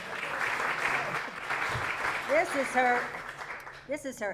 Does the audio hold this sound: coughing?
no